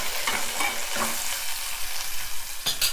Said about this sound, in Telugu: టమాటా కూడా మంచిగా వేగాలి. అవి కూడా నూనెలో.